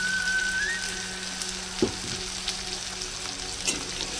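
Ground spices hit hot oil with softened tomato in a pan for a tilapia curry, giving a steady close frying hiss with a couple of brief stirring knocks.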